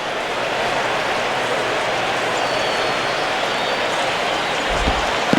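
A stadium crowd of over 39,000 at a baseball game in MLB 10: The Show, Marlins at Braves, roars and cheers on their feet as a steady, dense wash of noise that holds level throughout.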